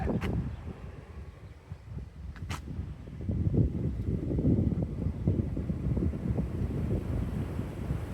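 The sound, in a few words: strong wind blowing on the microphone outdoors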